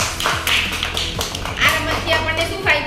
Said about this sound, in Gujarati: તો મંથન માટે તાળી પાડો.